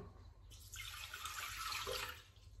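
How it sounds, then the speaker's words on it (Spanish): Water is poured into a ceramic kneading jug fitted with a kneading paddle for whole wheat bread dough, making a soft, steady splashing stream for about one and a half seconds, fairly quiet with no talking. "Y vamos a poner el agua."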